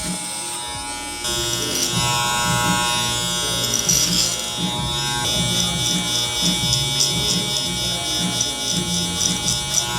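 Electric hair clippers with a number 3 guard buzz continuously while cutting the sides of a mullet haircut, loud and close, with the pitch shifting as the blades move through hair.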